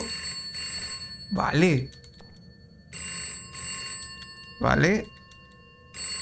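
A telephone rings inside a Poppy Playtime-style horror video game, repeating steady electronic rings in regular bursts while someone speaks briefly twice over it.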